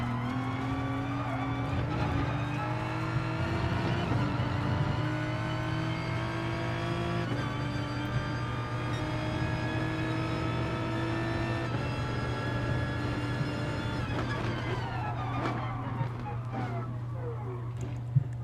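Onboard race car engine in GT Sport, droning steadily through the lap with rising and falling pitch at gear changes and cornering, loud and close, while someone talks over it.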